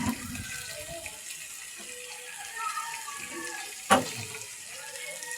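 Water pours into a cooking pot for chicken tinola with chayote, a soft, steady trickling stream, broken near the end by one sharp clatter from the pot or a utensil.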